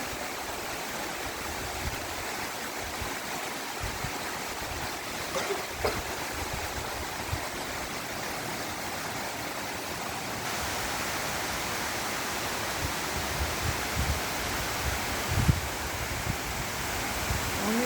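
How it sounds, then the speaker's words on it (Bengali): Heavy rain falls in a steady, dense, continuous hiss that stays even and unbroken throughout, with only a few faint knocks. "দেখতেছেন অনেক সুন্দর বৃষ্টি হচ্ছে"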